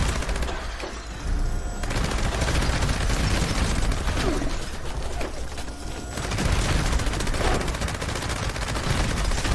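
An automatic turret fires in the video game Fallout 76, rattling off dense, continuous bursts of gunfire that pause briefly and resume, loud and close, with no talking.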